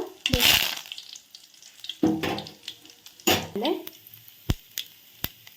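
Ginger and pepper frying in oil for a curd curry give short bursts of crackling sizzle with sharp pops and quieter gaps between them, heard up close alongside some speech.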